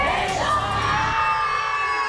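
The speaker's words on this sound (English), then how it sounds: "give yourself that applause" A school leadership-day audience breaks into cheering and whoops, loud at first and then settling into a sustained crowd roar.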